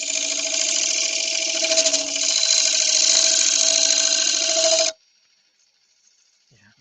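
Wood lathe spinning a bowl while a turning scraper refines the surface, a loud steady whining hum with rasping cutting texture that stops abruptly after about five seconds, leaving near silence.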